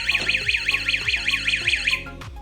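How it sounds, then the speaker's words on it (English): A door stopper security alarm shrieks loudly with a rapid, rising-and-falling warbling siren tone, repeating in quick cycles for about two seconds before cutting off. "it beeps at 105 decibels, at the level of a motorcycle or a drill"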